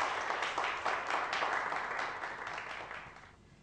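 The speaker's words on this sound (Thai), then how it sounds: "ขอเสียงปรบมือให้จันชันชัยจากร็อกสคูลครับผม" Audience applause welcoming a guest musician from a rock school at a Thai music event, a steady dense patter of clapping that holds for a few seconds and then fades out.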